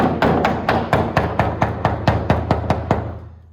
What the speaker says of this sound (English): I'm going to hammer it in.